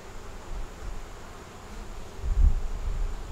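Honeybees hum in a steady low drone from an opened hive during a brood inspection, with a brief louder swell partway through as the frame handling stirs them.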